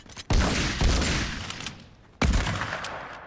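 Two loud, close pump-action shotgun blasts from the Fortnite video game, one near the start and another about two seconds later, each ending in a decaying echoing tail.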